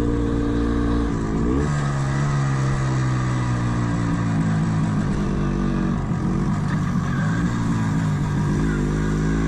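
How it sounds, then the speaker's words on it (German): An MZ TS250-1 two-stroke motorcycle being ridden, its engine buzzing steadily up close with rising and falling pitch as it pulls through gears, a continuous rough drone with wind noise underneath. "Der Motor der MZ TS250-1 ist ein Sahnestück."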